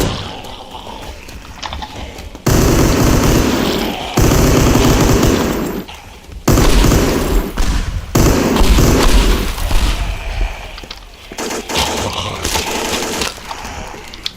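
Rapid automatic gunfire in the video game Teardown, loud bursts of rattling shots that cut in and out with brief gaps, with no talking.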